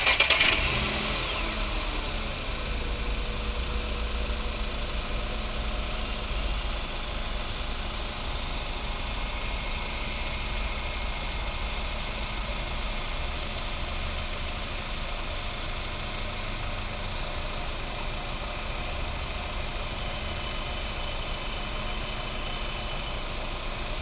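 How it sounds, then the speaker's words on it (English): A car engine turns over and catches, then settles into a steady, close idle hum that runs on without interruption. "Then start the engine."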